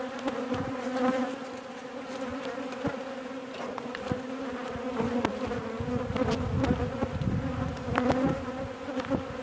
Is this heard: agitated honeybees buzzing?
yes